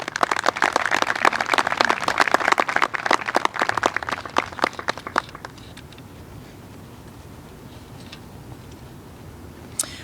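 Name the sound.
audience applause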